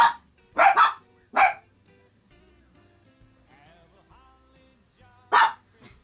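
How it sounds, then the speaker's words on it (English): Household dogs barking indoors in a few loud, separate bursts of one or two barks each, with quieter background sounds and short gaps between them. "Sorry, it's my dogs."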